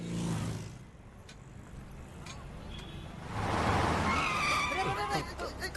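A car skids with rising tyre squeal in a dramatic film scene, loud and close over background music, with people talking over it.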